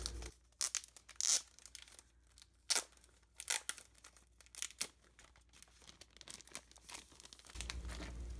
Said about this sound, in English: let's take it out of the plastic